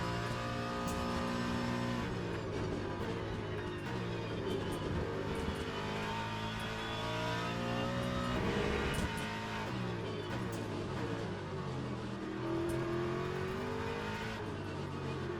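A Ford race car's engine drones loud and steady throughout in the Le Mans Ultimate racing simulator, its pitch sweeping up and down through gear changes and braking into corners.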